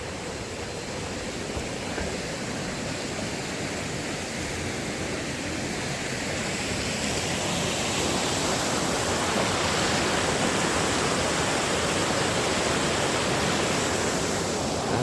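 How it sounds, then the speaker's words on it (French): Water rushes continuously in a broad, steady hiss, growing slightly louder over time, with no voices. "Le ruisseau noir coule."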